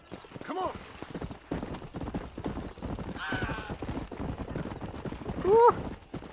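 Horse hooves clip-clop at a gallop in the Western video game Red Dead Redemption, joined by a loud, close whinny near the end, with someone talking over the game sounds throughout.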